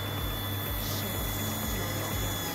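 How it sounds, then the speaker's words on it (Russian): A PN-370 water pump runs with a low, steady hum and pulsing throb as water flows through it, quiet and continuous with a faint liquid wash. "Пошла вода качаться по ходу дела."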